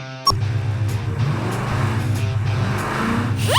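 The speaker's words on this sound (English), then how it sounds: "We have successfully built the ideal future car. We need to test it." A homemade off-road RC car runs steadily through a test drive, its small electric motor whirring and buzzing continuously at close range, starting abruptly and ending with a rising whine.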